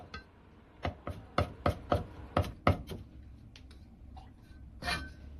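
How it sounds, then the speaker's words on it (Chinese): A knife chops a piece of fresh ginger on a board: a quick run of about nine sharp, close chops, a short pause, then a couple more. "生姜1块，先拍破，再切碎"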